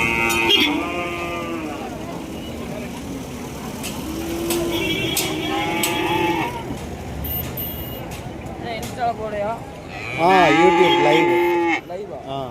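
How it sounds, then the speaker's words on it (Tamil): Sindhi cattle low repeatedly at the Kundadam cattle market in Tamil Nadu, deep drawn-out moos rising over steady crowd chatter and background engine noise, with a loud call near the end. "எல்லாமே சிந்து மாடுகள்."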